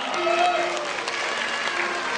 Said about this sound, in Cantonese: 我哋要即係俾啲掌聲咧